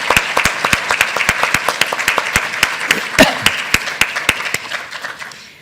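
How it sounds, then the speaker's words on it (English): Audience at an evening lecture gives a round of applause, crisp, dense clapping close by that holds steady and then thins out toward the end. "give him a big round of applause"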